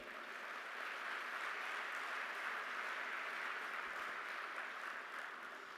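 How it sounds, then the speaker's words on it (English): An audience at an inspirational talk applauds continuously, with many hands blending into a smooth, steady roar. The applause stays at an even, fairly faint level, with no speech over it. "can we have a huge, thunderous round of applause for this profession?"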